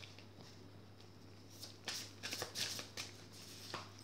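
Oracle cards are shuffled and drawn by hand in a quiet room, with soft riffling and crisp slapping flicks building in the second half as the cards are handled and laid out, no voices.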